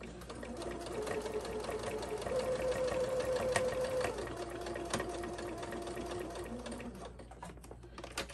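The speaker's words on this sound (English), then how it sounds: "I'm going to sew down the top edge of our pocket" A sewing machine stitches down the top edge of a pocket on a zippered pouch, running steadily for several seconds at close range with a continuous whirring hum and no talk.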